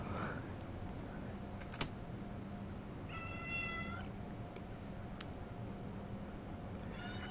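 A cat gives one clear, fairly faint meow over a steady low hum from the Train Sim World 4 train simulator, with a couple of sharp ticks nearby.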